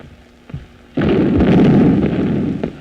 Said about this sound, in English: The stupid field artillery. They're shooting the wrong way.